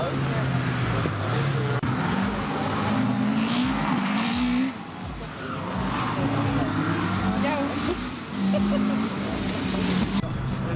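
A rally car on a live stage at the RaceRetro 2019 event: its engine revs loudly and close, rising and falling in pitch through gear changes, with a short dip before it pulls hard again.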